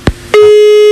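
Telephone disconnect tone on a radio call-in line: a short click and thump, then a steady, loud, unbroken electronic tone that holds to the end.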